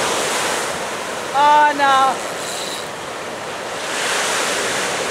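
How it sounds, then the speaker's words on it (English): Surf rolls onto 13 Mile Beach at Hopetoun, Western Australia, a loud, continuous roar of breaking waves and wind, briefly interrupted by a short spoken exclamation. "You see that white spot there in the sea? The wave here?"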